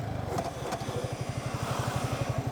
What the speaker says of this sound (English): Every time you brake hard, it makes an awkward sound.